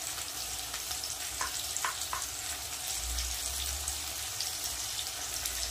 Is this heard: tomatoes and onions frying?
yes